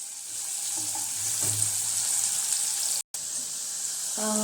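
Sliced onion frying in a pan until golden brown for a Kolhapuri kurma, a steady close sizzle with a few faint stirring knocks and a brief dropout near the end, no voice over it.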